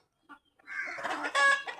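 Domestic chickens at a house cluck in a short burst, starting with a brief call and then building into louder, overlapping clucks close by, with no other sounds around them.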